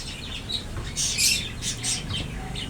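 Parrots at an old house give harsh squawks and chirps, a few loud bursts in quick succession over steady background noise at moderate distance.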